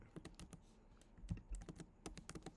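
Close, quiet typing on a computer keyboard, a run of crisp irregular key taps and clacks with short pauses, heard alone without talk.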